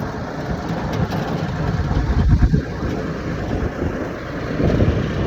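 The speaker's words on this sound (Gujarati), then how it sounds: "ટ્રેક્ટરમાંથી ગાડું સાથે જોડેલું છે તેમાં અત્યારે આપણે સફર કરી રહ્યા છીએ" A tractor engine hauling an attached cart along a village track, a steady close mid-pitched drone with wind buffeting the microphone and a brief louder swell partway through, with no talk.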